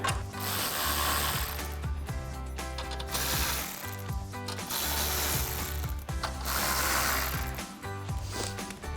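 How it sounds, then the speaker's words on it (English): Ratchet with a 10mm socket tightening headlight bolts on a 2010-2018 RAM 2500, producing steady, close, repeated clicking pawl strokes in several rhythmic bursts with brief pauses, no speech. "grab our 10mm socket on our ratchet again and go ahead and tighten these down"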